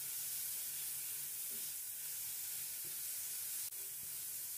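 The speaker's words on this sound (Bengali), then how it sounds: "এখন আমি মাশরুমটাকে 2 থেকে 3 মিনিট নেড়েচেড়ে নেব।" Salted mushrooms sizzle steadily in a pan while being stirred for mushroom soup, a constant soft hiss with a few faint scrapes of the spoon and no talk.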